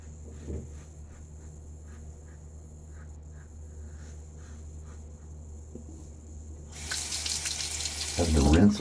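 Tap water runs into a sink while a safety razor is rinsed during a wet shave, a steady close splashing stream that starts near the end and swells louder.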